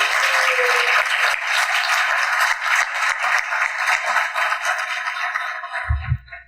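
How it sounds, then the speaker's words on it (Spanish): Audience applause at a university book presentation, a steady wash of many hands clapping that holds loud for several seconds, then tapers and stops abruptly near the end. "vamos a darle un fuerte aplauso al doctor"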